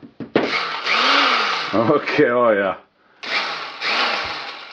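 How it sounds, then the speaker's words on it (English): A vintage 1950s hand-held drill whirs in loud, sustained bursts as it bores sideways, cutting out briefly and restarting, with a voice speaking between runs. "Feels like I'm drilling sideways."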